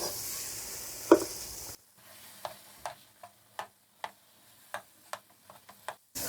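Makhandi halwa being stirred in a pan as it roasts, a faint sizzle under a series of soft, evenly spaced scraping strokes, close and alone with no voices.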